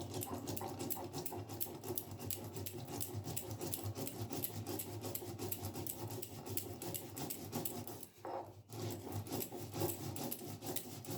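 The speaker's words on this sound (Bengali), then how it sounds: "এবার অল্প অল্প জল দিয়ে সর্ষেটা বেটে নেব।" Mustard seeds with a little water, salt and turmeric ground by hand on a grinding stone, a steady dense rubbing and rasping that continues nearly unbroken, close and fairly loud, with one brief pause near the end.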